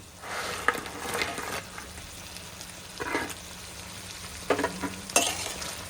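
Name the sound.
chicken cooking in boiling Manchurian sauce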